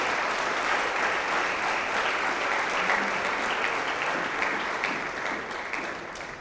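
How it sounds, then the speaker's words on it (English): Steady applause from an awards-night crowd honoring a men's basketball team, dense clapping that holds through most of the stretch and gently fades near the end. "Round of applause for them."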